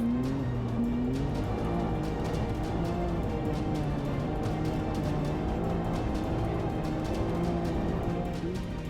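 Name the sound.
Can-Am side-by-side racing in the desert rally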